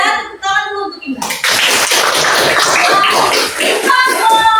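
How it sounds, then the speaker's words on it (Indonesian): Students clapping together in a classroom for a classmate, a dense burst of applause that starts suddenly after a teacher's brief speech and continues loud and steady. "Tepuk tangan dulu untuk Indra."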